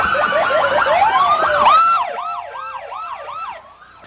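Police sirens wail loudly at a parade, several overlapping tones sweeping up and down, then one siren settles into a rapid rising-falling yelp that fades slightly.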